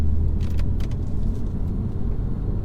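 Deep road rumble from a stage 1 mapped 2018 BMW M140i pulling hard while driving, a steady loud engine and tyre drone heard from inside the cabin, with a few light rattles on top.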